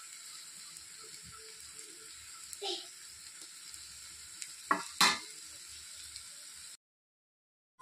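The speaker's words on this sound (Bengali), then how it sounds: "এইভাবে খুন্তির চামচ দিয়ে দিয়ে একটু নেড়ে দিতে হবে।" Coconut fritters fry quietly in oil over low gas while a spatula stirs them, giving a faint, soft sizzle broken by a few sharper metallic scrapes and clatters, then stopping.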